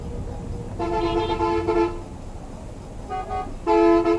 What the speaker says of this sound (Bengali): এখানে হর্ন বাজাতেই হবে ভাই, হর্ন না বাজিয়ে আপনি পারবেন না